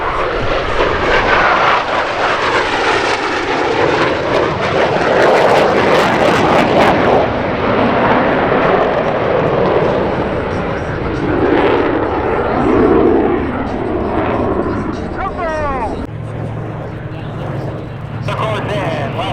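A Vought Corsair makes a low pass at an airshow, its piston engine roar loud and close. The sound sweeps with a shifting whine as the plane passes and then fades. Voices can be heard under the engine noise.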